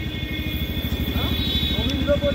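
A Yamaha Ray ZR 125 hybrid scooter with a battery issue is being started. Its engine thrums in rapid, steady low pulses close by, with faint voices nearby.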